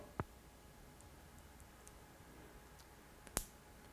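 A small microphone jack plugs into a smartphone socket, giving two crisp isolated clicks several seconds apart over quiet background, with faint ticks between them.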